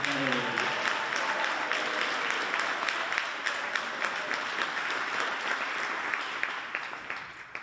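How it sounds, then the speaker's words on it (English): Audience applause at the Hibriten Spring 2021 high school band concert as the junior class is recognized: sustained, bright clapping from a sizable crowd that starts just after a brief spoken voice and gradually thins toward the end. "applause for our junior class."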